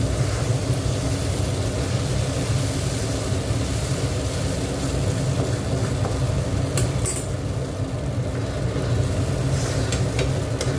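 Food being stirred in a hot pan while cooking, a continuous loud sizzle with scraping and rustling from the stirring, steady throughout with a few brief metallic clinks.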